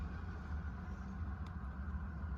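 A car engine idles in a steady, continuous low rumble on a rainy day, holding even throughout with no one talking over it.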